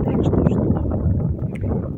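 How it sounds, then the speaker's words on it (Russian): Strong, cold wind buffeting the microphone outdoors, a dense low roaring rush with gusty fluctuations, fairly loud and close, with no speech audible. "Ветер такой сильный, что я вышла рано."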